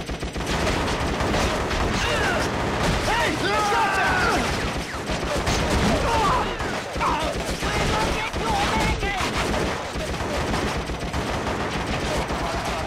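Dense, continuous gunfire from an AK rifle and other weapons in the Vietnam war game Shellshock Nam '67, loud and layered with shots and battle noise throughout, mixed with voices.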